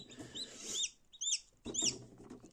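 Several high, rising peeps from turkey and guinea fowl chicks in short bursts, fairly close, over a low murmur of background noise.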